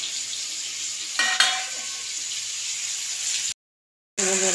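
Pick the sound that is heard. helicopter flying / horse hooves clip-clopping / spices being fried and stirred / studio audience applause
spices being fried and stirred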